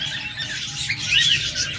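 Caged pet birds at a bird sale, lovebirds and cockatiels among budgerigars, keep up a close, bright chatter of chirps and tweets, with one sharper squawking call rising near the middle.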